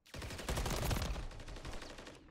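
A dense, loud volley of rapid gunfire fills a search-and-destroy round in a competitive shooter tournament, a continuous burst of overlapping shots with no talk.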